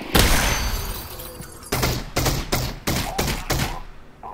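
Gunfire in the video game Half-Life: Alyx: a loud opening burst, then a rapid series of about six sharp shots in an uneven rhythm, close and alone without talk.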